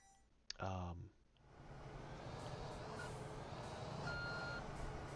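Reversing beeps from a dump truck in the Construction Simulator 2 game: a quick series of rising, stepped electronic tones near the start, then a steady diesel engine drone with a few faint high tones over it.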